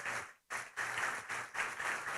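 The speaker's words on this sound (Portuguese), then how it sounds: "Eu quero que a igreja aplaude o Senhor por esses irmãos" Church congregation applauding during a service, a dense wash of clapping heard close and moderately loud, with a brief lull before it swells again in uneven bursts, no talk over it.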